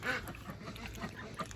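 Ducks quack in short, scattered calls at a mini farm on a hot afternoon, fairly close, with busy outdoor background noise and no talking.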